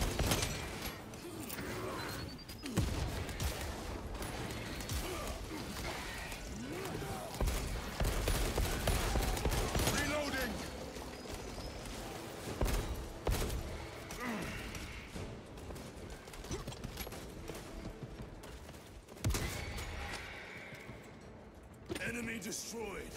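Sniper rifle fire in Space Marine 2, heavy single cracks spaced through a dense, noisy battle mix, with voices talking over the combat throughout.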